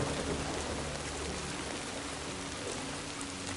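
Steady rain pours throughout the video game Death Stranding, a dense, even hiss of drops on surfaces with a faint low rumble beneath, no voices.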